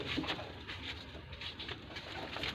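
Rampuri pigeons cooing close by, soft repeated low calls over a faint rustling background.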